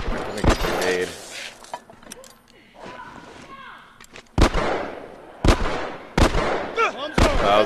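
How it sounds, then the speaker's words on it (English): Explosions and gunfire in The Last of Us multiplayer video game: several sharp, loud blasts land at irregular intervals, one from a thrown grenade, with lighter clatter and debris between them and a voice speaking in the background. "I'm gonna get grenade."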